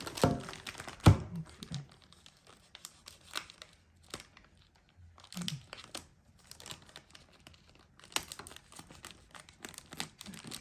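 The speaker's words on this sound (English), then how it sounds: "Just gotta take off the tape." Tape peeled and torn off a cardboard box holding a BlackVue dashcam battery pack, crinkling and scratchy tearing in several bursts with occasional thunks of handling, close and fairly loud, no talking.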